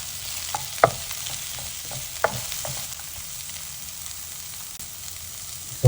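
Onions fry in a pan for sambal stingray, giving a faint, steady sizzle with occasional soft utensil taps and a louder clack at the very end.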